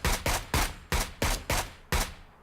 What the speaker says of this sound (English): he's shooting someone else